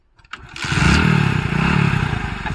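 A motorbike engine starts up near a farm and keeps running loud and steady with a rough, clattering idle for a couple of seconds, with no talking over it.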